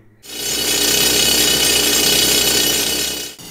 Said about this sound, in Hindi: इस सुरंग से बमुश्किल चंद गज के फासले पर ये मजदूर ड्रिल मशीन से एक और सुरंग बना रहे हैं।